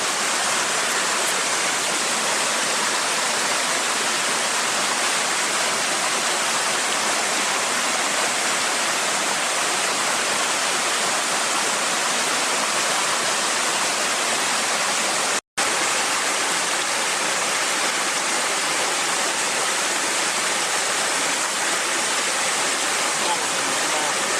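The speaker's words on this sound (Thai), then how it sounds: "อันนี้ก็เป็นลำธารริมที่พักนะครับ" A steady, full rush of a forest stream running over rocks, loud and continuous with no voices.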